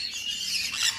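Many birds at the Yelagiri bird park squawk and chirp continuously at close range, a dense, shrill, overlapping chorus with no talking.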